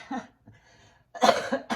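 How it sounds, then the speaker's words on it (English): A few rough, close coughs in quick succession, loud bursts separated by short pauses, with no talking. "I've got a terrible cough this morning."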